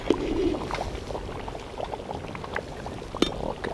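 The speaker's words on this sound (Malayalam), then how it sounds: "ഒന്ന് വെള്ളം വറ്റിച്ച് ഒന്ന് കുറുക്കിയെടുക്കാം." Chettinad chicken curry bubbles in a pot as its water cooks down, giving low gurgling pops and thick bursts up close, with a brief louder pop near the end.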